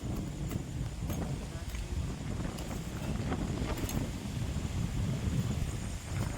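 Wind blows outdoors around a home, a steady blustery rumble buffeting the microphone throughout, with faint voices in the background.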